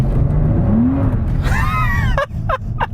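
A Mercedes SL65 AMG Black Series floored from a standstill gives a loud, close engine roar, with high squealing tire chirps and short, sharp bursts of wheelspin breaking through near the end.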